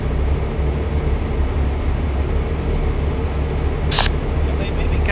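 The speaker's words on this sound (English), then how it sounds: "Sweet, there's a helicopter landing over beside me here." A constant low mechanical drone with rotor-like throbbing from a helicopter landing nearby in the American Truck Simulator video game, steady and fairly loud, with a brief sharp click partway through.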